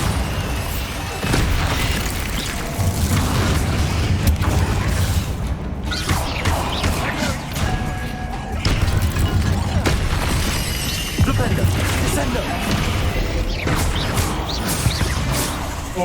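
Bombarda blasting spell in the Hogwarts Legacy video game, a run of booming impacts, shattering debris and crashes repeating over busy game sound.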